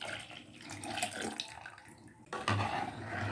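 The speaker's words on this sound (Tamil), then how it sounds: "இப்போ நம்ம வேக வச்ச தண்ணியை அதில் சேர்த்துடலாம்." Boiled cooking water from the brinjal is poured into mashed eggplant gothsu, giving a soft, close splashing trickle that grows louder and fuller partway through.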